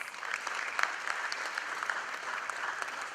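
A round of applause from an audience at a face-to-face event honoring guests on stage, a continuous, even wash of many hands clapping at moderate volume throughout.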